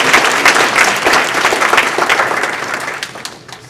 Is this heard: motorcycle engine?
no